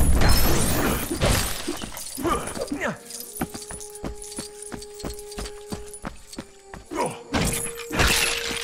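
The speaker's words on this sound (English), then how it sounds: "Why am I still smashing this stuff?" In LEGO Jurassic World on PS5, objects get smashed in rapid bursts of clattering, shattering breaks and sharp pops, with a steady musical tone running through the middle.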